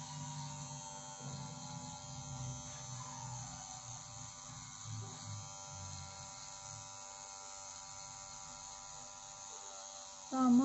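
A Philips NT3160 nose trimmer runs with a steady, thin electric buzz and hum that holds level for about ten seconds, with a brief louder bump at the very end.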